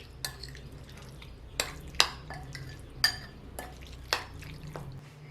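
A spoon mixes a chicken marinade with added oil in a bowl, giving about eight soft, evenly spaced clinks and scrapes against the dish over a quiet background.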